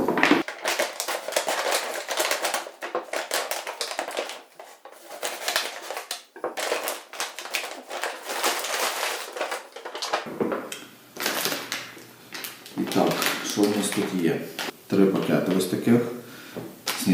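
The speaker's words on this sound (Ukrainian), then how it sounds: "Ось такий пакет. Написано 3500 калорій. Ну, досить багато. Давайте будемо відкривати." A Ukrainian armed forces daily ration pack rated at 3500 calories is torn open, its plastic packaging crinkling and crackling in repeated bursts while a voice speaks intermittently.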